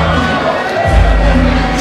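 Crowd cheering at a wrestling show, a loud continuous roar of many voices that swells with a deep boom just before the midpoint, with a commentator's voice talking over it.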